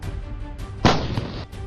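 An ATAGS towed artillery gun fires a single loud boom partway through, followed by a rumbling roll that fades within about half a second, with no talking.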